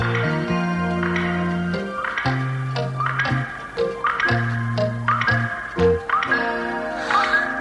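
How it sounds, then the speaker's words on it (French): Tik-Tok, the mechanical man from an animated Wizard of Oz series, makes a steady ticking over tonal cartoon music, with repeated bright, chiming pulses throughout. "qui faisais ce bruit de tic-tac"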